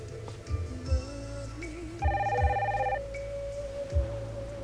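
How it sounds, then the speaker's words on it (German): A telephone rings in a quiet room with soft background music, one bright electronic ring burst standing out midway, loud and close, with no talking. "Wir müssen nicht rangehen, Eden."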